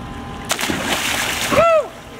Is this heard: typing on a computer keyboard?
no